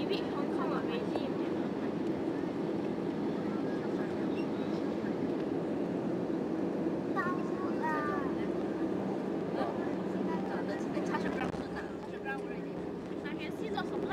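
Steady, loud cabin roar inside an AirAsia A320 landing at Hong Kong International Airport, a broad continuous rumble with faint voices in the cabin under it.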